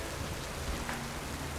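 Steady rain ambience from the video game Pokemon Sword, a constant even hiss with no breaks and no voices.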